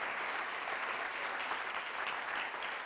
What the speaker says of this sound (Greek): αξίζει να τους χειροκροτήσουμε, γιατί είναι πάντα δίπλα μας